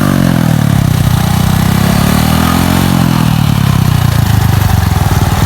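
Honda Wave 110i motorcycle with a stock 53 mm bore launching hard on a drag strip, its small engine revving loud and close with a rising, buzzing pitch through the gears, steady and continuous.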